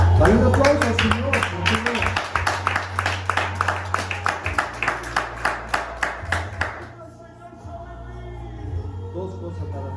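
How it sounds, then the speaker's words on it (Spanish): A church congregation claps in a quick rhythmic burst over a sustained low organ or keyboard tone, the clapping stopping partway through as the music carries on alone. "Dale un aplauso al Señor."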